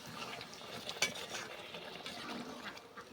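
Jackfruit curry with prawns being stirred in a pan after a splash of water, a soft scraping and clinking of a spoon with one sharp clink near the start, fairly quiet and close, with no talking.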